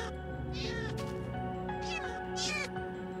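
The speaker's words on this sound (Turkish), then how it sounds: "Aa kedi sesleri geliyor." Several Minecraft cats meow and yowl in drawn-out cries over a droning background, loud and close.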